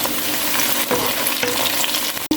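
Onions and whole spices—cardamom, cinnamon and bay leaf—fry in hot oil for beef haleem, a steady close sizzle with a few stirring scrapes and a brief drop near the end.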